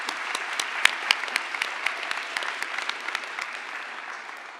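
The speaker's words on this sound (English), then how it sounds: "let's give them a round of applause" Audience applause at a university graduation ceremony for the Faculty of Arts and Society, a steady wash of many hands clapping alone for several seconds, fading slightly toward the end.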